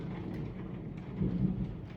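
Low thunder rumbles during a storm, a soft, muffled roll that swells briefly, heard faintly from indoors with a light wash of rain behind it.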